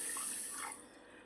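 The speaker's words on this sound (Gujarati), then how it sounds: "જો આ મોરસમાં પાણી રેડી દઈએ" Water poured from a vessel onto sugar for wheat flour sheera, a brief soft splashing trickle that tapers off quickly, quiet and alone.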